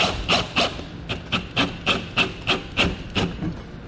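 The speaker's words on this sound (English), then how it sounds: "We're going to want to cut out a hole with a 4-inch hole saw." A 4-inch hole saw cuts through a Tesla Model bumper cover in a series of about nine evenly spaced rasping strokes, close and clear, with no voices.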